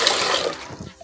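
Tap water runs steadily in a home kitchen while food is rinsed, a close, bright rushing stream lasting about a second and easing slightly near the end, with no voices.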